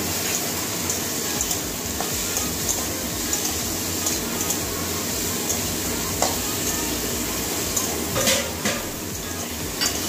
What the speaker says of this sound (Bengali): এবারে কেটে রাখা টমেটোগুলো দিয়ে দিচ্ছি